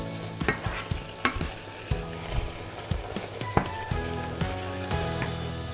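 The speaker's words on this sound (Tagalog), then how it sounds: "Tapos samputsa lang natin siya hanggang mas maluto pa" Beef sautéing for chilli con carne sizzles steadily in a pan, while a spoon stirs and scrapes in repeated clacks close by and no one speaks.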